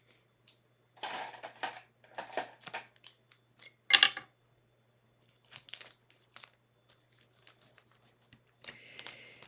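Scissors cut and snip open the packaging of a Paper Pumpkin paper craft kit, with crinkling plastic and short sharp snips in scattered bursts, one louder crack partway through, fairly close and with no talking.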